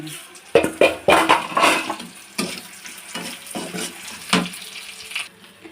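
Whole panch phoron spices hit hot oil already holding dried red chilies, onion, garlic and bay leaf for a mango chutney, giving a close, crackling sizzle with several sharp bursts that fade into a steady fry.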